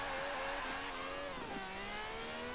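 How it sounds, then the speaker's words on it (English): A fast car's engine in a video game revs continuously at a high, slightly nasal pitch, rising and dipping as it shifts, loud and close throughout with no talking. "I don't like the sound of the car too much. Sounds a little bit annoying, but it's pretty fast."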